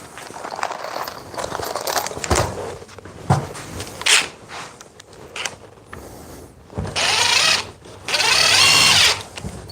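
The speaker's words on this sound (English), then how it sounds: "Let's drive in a couple more screws." A power tool drives screws in several short bursts, buzzing whirs starting and stopping with quiet gaps between them, the last runs longer and louder, close by with no talking.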